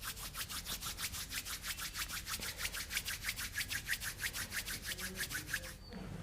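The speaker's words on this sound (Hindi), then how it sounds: "और 5 मिनट शांत रहने के बाद हम करेंगे अपने हैंड को रब।" Two palms rub briskly together during a calm neck and relaxation exercise routine, a steady run of about thirty quick, even strokes, close and fairly loud, with no talking.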